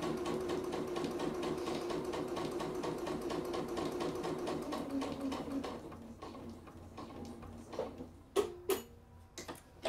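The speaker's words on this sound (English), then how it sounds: "I'm just going back down, stitching another one of these straight parallel lines" A sewing machine stitches straight parallel quilting lines in a steady, ticking rhythm for about six seconds, then slows and stops, followed by a few sharp clicks and fabric handling.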